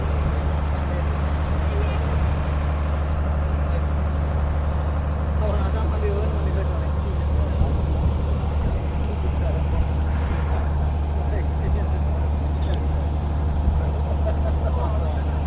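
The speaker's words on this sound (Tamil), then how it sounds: "போட் போய்கொண்டே இருக்கு பாருங்க." A boat engine drones steadily on a passenger boat crossing to Delft Island off Jaffna, a constant low rumble throughout with faint voices and ambient noise mixed in.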